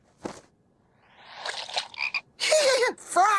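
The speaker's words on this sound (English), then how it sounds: "Frogs!" Frogs croak in a short animated commercial, several raspy croaks building from a faint single call to louder overlapping bursts, with rising tonal calls near the end.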